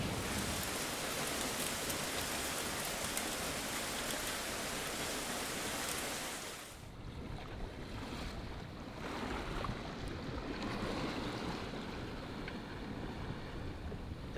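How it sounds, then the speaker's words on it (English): Heavy rain hisses steadily, pouring down on surfaces, then briefly softens before picking back up into a constant wash. "come and get out of the rain"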